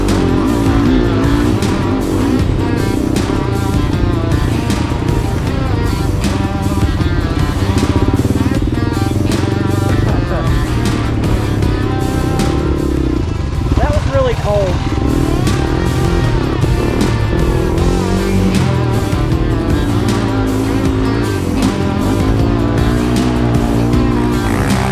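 Off-road vehicles rip around an off-road park at the Badlands Bash, engines revving loud and continuous with changing pitch as they accelerate and slide close by.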